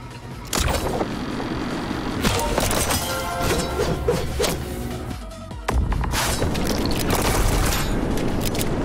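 Explosions blast through walls in the video game Neon White during a speedrun, arriving as repeated sharp crashes and booms over a loud, busy run of gameplay effects and music.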